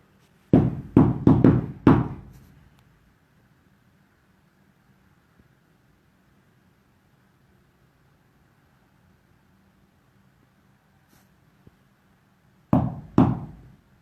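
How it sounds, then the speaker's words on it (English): Four quick knocks on a door aboard the ship William A Irvin, followed by a long quiet pause and then two more knocks near the end, loud and close with no talking. "maybe you can answer my knock"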